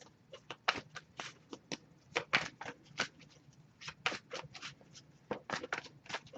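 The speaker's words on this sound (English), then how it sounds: "So I'll give it a few more shuffles." A deck of tarot cards is shuffled by hand in quick, papery riffles and flicks, close and soft, repeating in an uneven rhythm with no one talking.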